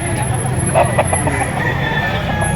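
Chickens and roosters at a poultry market in Lipa, Batangas, clucking and calling steadily close by, with a voice talking over them.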